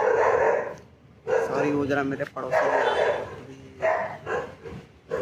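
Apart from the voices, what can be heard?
neighbour's dogs barking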